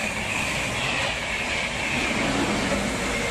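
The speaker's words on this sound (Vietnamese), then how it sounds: "Intercity train." An intercity passenger train rumbles along the rails with a steady, loud, broadband roar and a faint high whine, continuous throughout with no voices.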